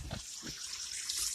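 A faucet runs water in a steady hiss for the whole moment, with a few low knocks and bumps near the start.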